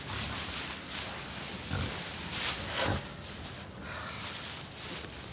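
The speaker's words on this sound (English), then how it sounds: "Hey, hey, Piggy, Piggy. Piggy?" A pig grunts and snorts at a farm, low rough grunts over a steady noisy outdoor background, moderately close, with no talking.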